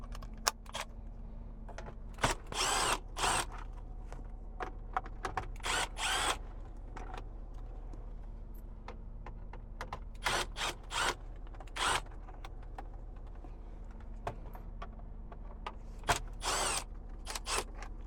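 A power drill backs out the radio mounting screws on a 2014–2018 Chevrolet Silverado dash, heard as short separate whirring bursts with quiet pauses between them, close by and without talk.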